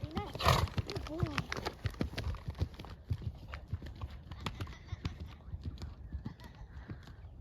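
A tall 16-hand-plus horse carrying a rider moves along with rhythmic clip-clopping hooves close by, repeated steady footfalls mixed with rustling and faint voices in the background.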